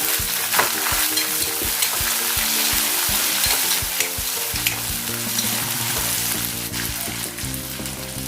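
Chopped onion and finely cut green chili sizzle loudly in hot oil in a pan with roasted peanuts, with steady crackling frying and repeated stirring clatters throughout, no talking.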